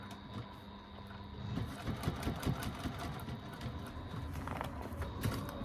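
Sewing machine running continuously while top stitching a bag, a fast, even mechanical chatter heard close and fairly quiet, with no talking.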